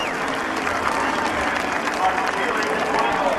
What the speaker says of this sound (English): Geoff Gordon gets a round of applause from the crowd